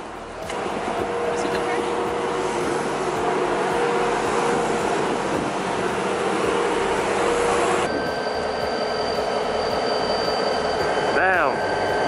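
A Western Maryland Scenic Railroad train, a 2,200-horsepower locomotive, rumbles loudly and steadily with rolling wheel noise and a brief squeal near the end, heard close at hand throughout.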